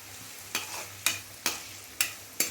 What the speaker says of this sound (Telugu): సన్నగా తరిగి పెట్టుకున్న ఉల్లిపాయ ముక్కల్ని వేసి బాగా బ్రౌన్ కలర్లో వచ్చే వరకు వేయించుకోవాలి.